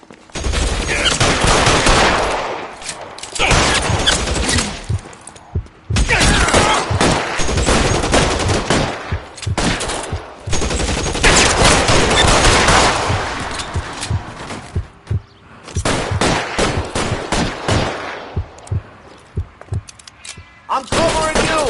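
Loud, close gunfire in an L.A. Noire shootout, coming in dense rapid-fire volleys of several seconds each, separated by short quiet gaps, with voices faintly mixed in.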